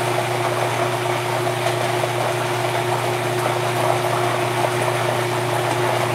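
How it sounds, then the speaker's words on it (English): Cuisinart blender running as it blends a sauce, a steady motor whir with a constant hum and watery churning, close and unbroken throughout with no talk. "Sorry for the noise, we're blending some stuff here real quick."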